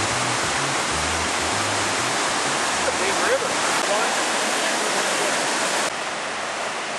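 The Yellowstone River roars steadily along a canyon hike, a loud, broadband rushing of water that stays constant throughout, with a faint low hum early on.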